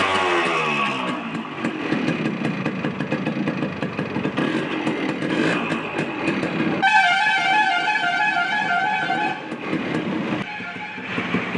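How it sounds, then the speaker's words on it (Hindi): Kick-started Yamaha RX100 two-stroke motorcycle engine runs loudly and continuously nearby, with a throbbing idle and a rising, revving tone partway through. "एक किक स्टार्ट है और साउंड भी बहुत बेहतरीन कर रहा है।"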